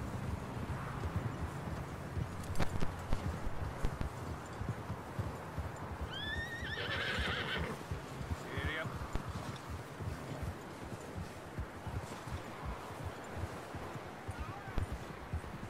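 A horse in Red Dead Redemption 2 whinnies in a rising, wavering call partway through, over steady clip-clop of hooves and game ambience that continue throughout.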